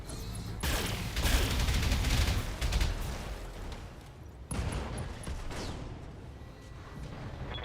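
A mech unloads a salvo of missiles in a BattleTech-style video game, a dense loud barrage of rapid launches and blasts, with a second volley erupting midway through.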